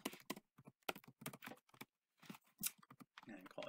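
Typing on a computer keyboard while setting up a six-day work week calendar in Microsoft Dynamics 365 Finance, a quick run of close, crisp key clicks in short bursts with brief pauses.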